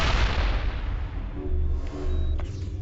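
A grenade detonates in the Mass Effect video game, a loud close blast that bursts in at once and fades into a long, heavy low rumble with faint crackling debris, and no voices.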